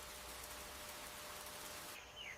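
Storm rain falls steadily in a hornbill's forest habitat, a faint, even hiss of drops continuing throughout with no voices.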